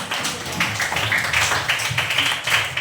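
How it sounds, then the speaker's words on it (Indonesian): A classroom of pupils claps their hands together, a loud close burst of uneven, overlapping claps with a faint murmur of voices underneath. "Oke, tepuk tangan."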